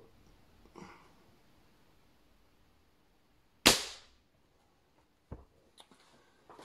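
An air pistol fires a 4.5 mm lead pellet over a chronograph indoors: one sharp, loud crack with a short decaying tail, then a few softer clicks and handling knocks in a quiet room.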